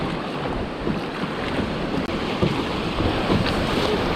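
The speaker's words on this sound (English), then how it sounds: "Keep paddling until we're through with the whitecaps." Kayak paddling on a river through whitecaps, a steady, loud wash of rushing water and wind buffeting the microphone, with paddle splashes blending into the continuous roar and no voices.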